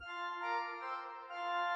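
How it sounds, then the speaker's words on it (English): A high super octave stop on the new Rieger pipe organ in Vienna holds a steady, bright sustained tone with a dense stack of pure harmonics, sounding alone without voices. "And the super octave is another octave higher."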